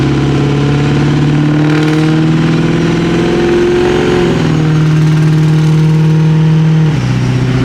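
A Ford 6.0 Powerstroke diesel truck engine revs and holds high, its pitch climbing then dropping back, with a rising whistling non-VGT turbo tone layered over the roar, loud and close.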